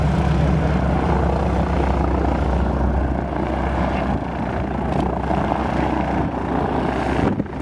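A World War II aircraft taxis at an airshow, its engine and propeller giving a loud, steady, rumbling drone that fills the scene throughout, with outdoor background noise.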